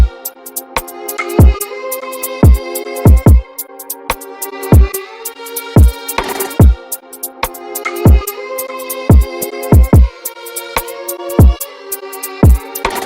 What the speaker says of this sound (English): All together, the drums and the melody, we'll play that together, sound like this.